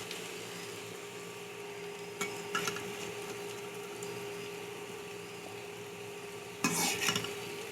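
Potato pieces fry in oil in a kadai, giving a quiet, steady sizzle with a few scraping stirs of a utensil against the pan, one louder stir near the end.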